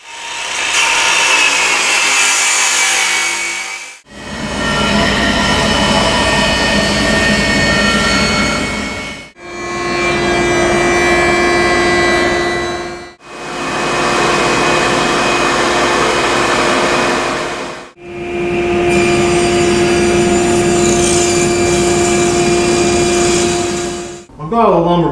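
Woodworking machines rough cut and dimension walnut lumber, with five long, loud, steady passes of a whining power tool separated by short gaps, close by and with no talk.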